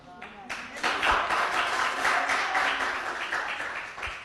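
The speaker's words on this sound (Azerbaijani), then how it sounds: "Bəlkə biraz alqışlayaq." Group clapping at an informal gathering, a dense steady patter of many hands that swells quickly and holds for several seconds with chatter mixed in.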